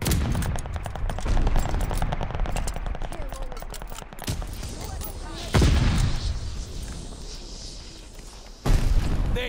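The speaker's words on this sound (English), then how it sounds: "Tossing stun grenade." A stun grenade is thrown amid heavy gunfire in Call of Duty: Vanguard, with rapid rattling bursts and several loud broadband blasts punctuating a constant din of weapons at close range.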